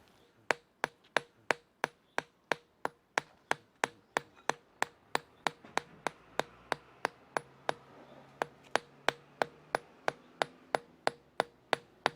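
A boucharde bush hammer taps a stone surface in a steady series of about thirty sharp, close strikes, evenly spaced and ringing briefly with each blow.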